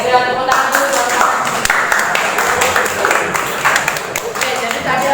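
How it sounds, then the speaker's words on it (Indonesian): Clapping fills a classroom as students applaud a classmate, a dense, steady patter of many hands that runs the whole time at close range, with voices mixed in. "Saya tepuk tangan dulu teman-teman."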